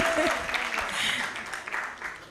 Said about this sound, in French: Est-ce qu'on peut applaudir pour Jeddah?